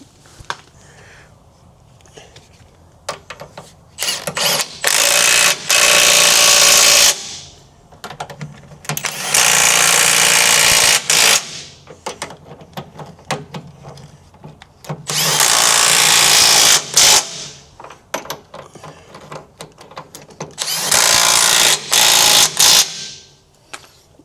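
A power tool tightens bolts on a CAT 265 skid steer frame, four loud whirring bursts of several seconds each separated by quieter clicks and handling noise.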